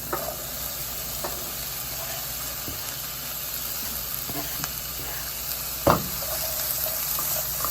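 Vegetables sauté in olive oil for a gravy to go with smothered turkey burgers. A constant close sizzle carries scattered clicks of stirring and a single sharper knock of utensil on pan.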